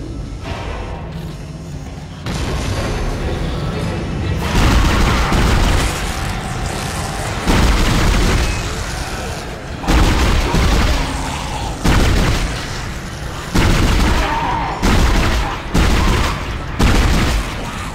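Gunfire from a weapon in the horror video game Dead Space, loud repeated bursts of shots and booming impacts recurring throughout, with heavy ambient game noise between volleys.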